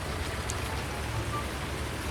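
Steady rain pours in Farming Simulator 19 at a digging site with a tractor and excavator, a dense even hiss of drops on surfaces, constant and fairly close, with no voices over it.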